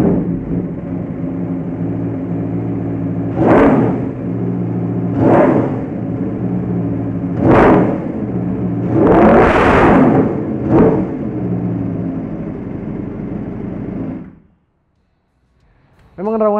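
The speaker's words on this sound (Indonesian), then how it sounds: "mesin V4 ini khas banget, apalagi dikasih knalpot Aero" An Aprilia V4 motorcycle fitted with a three-quarter Aero exhaust idles with a loud, dense rumble punctuated by five sharp throttle blips, then cuts to silence before a voice begins.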